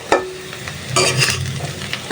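Bitter gourd with turmeric stir-fries in a pan, with a couple of brief scraping stirs over a soft, steady sizzle in a short burst.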